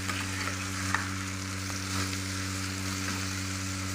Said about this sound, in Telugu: ఇప్పుడైతే సొరకాయ ముక్కల్ని నేను ఆయిల్ వేసి సొరకాయ ముక్కల్ని అయితే మగ్గించుకుంటున్నానండి